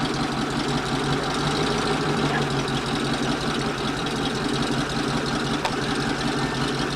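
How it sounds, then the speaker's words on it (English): A 75 horsepower gas engine running steadily, a close, continuous mechanical chugging with a rapid knocking rhythm and no pauses. "75 horsepower gas engine."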